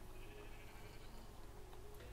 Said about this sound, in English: there you go, there's the sheep